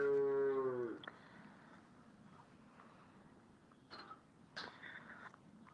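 A cow gives one loud, drawn-out moo up close, then the scene falls to quiet outdoor wind noise with a couple of faint, brief calls in the distance.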